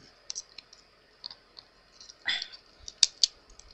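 Scissors cut around a piece while a garden stake lantern is being made. The snips are quiet, sparse and close, and they come in irregular bursts with one louder crunch partway through.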